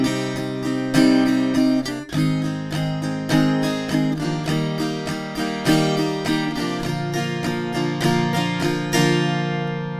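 Steady acoustic guitar strumming of the chorus of a song, a rhythmic down-up pattern repeating across chord changes, close and even in volume with no voices.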